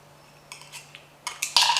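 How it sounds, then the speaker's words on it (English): Scallop meat scraped from its shell into a bowl, a few light clinks and scrapes that grow busier and louder toward the end, close by with no talk. "So now turn the scallop away from you, and you're going to scrape it down into a bowl."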